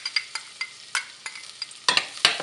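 Garlic sautéing in melted butter in a pan, with a run of quick scraping and tapping strokes from stirring over a faint sizzle, close up and distinct, no voices.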